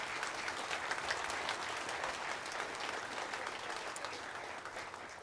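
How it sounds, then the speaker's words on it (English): A crowd at a Veterans Day ceremony gives sustained applause, a dense, even roar of many hands clapping together that holds steady for the whole stretch with a faint hint of crowd noise. "Let's give Zachary, Milani, and Mia another round of applause."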